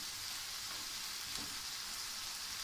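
Chicken tikka shallow frying in a pan, a steady broadband sizzle that holds constant throughout, close and even with no voices over it.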